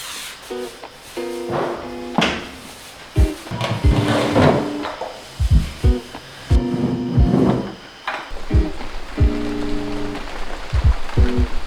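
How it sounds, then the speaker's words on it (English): Rain falls steadily on a surface at a house in Nicaragua, a constant hiss broken by close, irregular wooden knocks and thuds with brief tonal creaks. "I was hoping that the weather wasn't going to be this rainy today"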